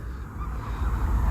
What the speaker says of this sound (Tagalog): ang daming mga ibon